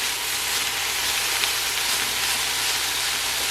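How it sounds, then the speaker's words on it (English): Bell peppers for a low-carb arroz con pollo sauté in a pan, giving a steady, dense sizzle that stays even and close throughout, with no talking. "the peppers have like those brown edges on them and look like it's been sauteed"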